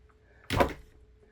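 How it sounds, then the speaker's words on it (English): A cabinet door in a newly organized craft studio swings open with a single close, solid thunk and a brief rattle, with only quiet room tone around it. "So we're going to walk over here and flip this door open."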